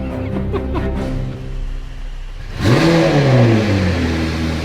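A McLaren 720S, a crash-damaged car being rebuilt, fires up after a quiet stretch with a loud engine catch, then revs in a rising and falling sweep close by; faint voices are present before the start.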